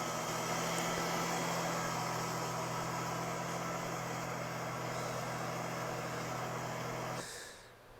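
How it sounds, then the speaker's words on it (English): A Ford Aerostar van engine idles steadily with a low, even hum and faint mechanical whir, holding constant for about seven seconds before the sound drops away. "we can hear it idling. Idle sounds nice."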